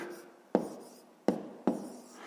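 Pencil or pen writing down a maths answer, three short distinct strokes or taps spaced across the moment, close and fairly quiet in a still room with no talk.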